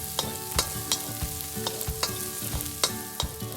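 Garlic fries in a pan for vegetable Hakka noodles with a steady close sizzle, while a utensil stirs and scrapes in repeated sharp clicks and taps against the pan.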